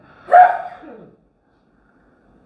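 A single sharp sneeze during an Islamic lecture, loud and close, bursting out briefly and trailing off into quiet.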